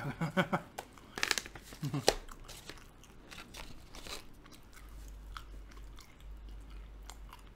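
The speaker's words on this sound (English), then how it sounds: "It takes half an hour to chew it" Someone chews tough, chewy beef jerky from a Dutch military ready-to-eat ration, close-up wet bites and crunchy chewing in bursts, with crinkling packaging and a little speech mixed in.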